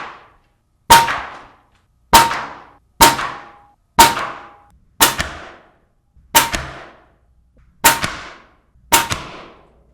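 Eight sharp airgun shots crack out one by one at roughly one-second intervals, each slug slamming a nail into wood with a bright, ringing impact that decays quickly, close and loud with silence between.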